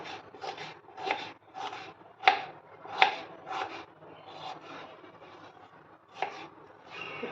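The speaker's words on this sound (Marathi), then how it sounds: "तर आपण आता इथे कांदा उभा चिरून घेऊया वाटण्यासाठी।" A knife slicing an onion lengthwise on a board for a prawn masala paste, a quick series of soft, raspy cuts with a few sharper taps, close and fairly quiet, no voices.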